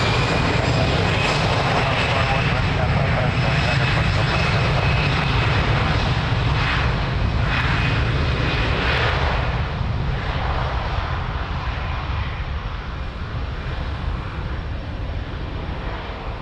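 Airliner taking off from runway 02 at Lisbon Airport: a loud, sustained engine roar that holds strong throughout and eases only slightly toward the end.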